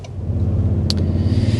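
A 2025 Toyota Tundra 1794 hybrid pickup pulls away toward a highway, with a steady low engine rumble heard from inside the cab and a brief light click partway through, and no talking.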